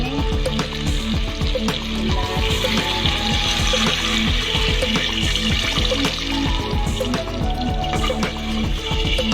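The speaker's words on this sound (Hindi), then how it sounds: "और अब मैं इसमें पानी डालूंगी।" Meat stock water poured into sizzling masala in a cooking pot, a loud, continuous splashing pour over steady frying crackle, close up and without talk.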